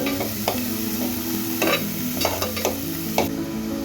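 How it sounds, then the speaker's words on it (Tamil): Chopped onions frying with cumin in a pan give a steady close sizzle, while a spatula scrapes and knocks against the pan in uneven strokes, without any voices. "சேர்த்து அந்த வெங்காயமும் நல்லா பொன்னிறமாக ஆற வரைக்கும் வதக்கணும்."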